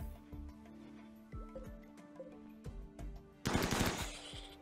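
Automated turrets in the video game RimWorld open fire on a capybara, with short sharp shots leading into a loud, dense burst of rapid gunfire near the end.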